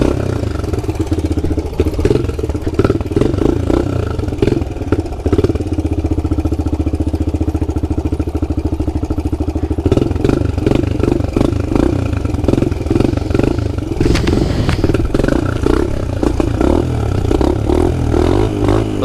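A pit bike engine revving while being ridden: a loud, close, buzzing small-engine drone that rises and falls steadily, with throttle blips and a clattering patch near the end.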